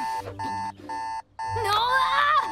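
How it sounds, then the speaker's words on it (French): A loud alarm clock rings in repeated electronic beeping bursts with short gaps, then gives way to a bright sliding tonal sound near the end, heard up close. "j'ai pas entendu le réveil sonner"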